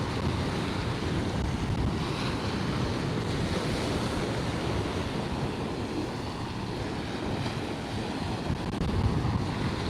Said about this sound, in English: Man, that wind is getting strong now.